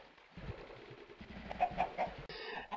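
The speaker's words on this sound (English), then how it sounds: "What it is chicken in a tube of water, held in by a sign at the bottom" Chicken clucking in a farming video game, a few short soft clucks amid quiet background noise, fairly faint, with no speech.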